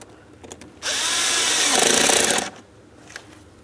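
A power tool buzzes loudly for about two seconds while tightening a hose clamp onto the air filter housing of a 2003-2007 Cadillac CTS 3.6L V6, with quiet shop noise before and after.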